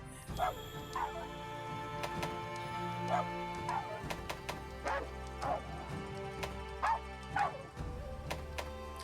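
Game dog companion voice being chosen in Monster Hunter Rise character creation: a run of short barks and yips, some whimpering, repeating every second or so over a steady background music bed.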